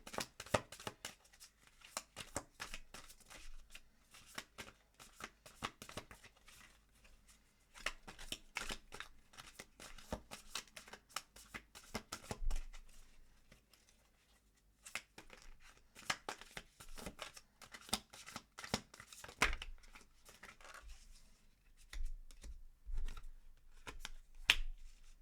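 Tarot cards are shuffled by hand in quiet, close bursts of rapid riffling and flicking, pausing briefly and then starting again over about twenty-five seconds, with nothing else heard.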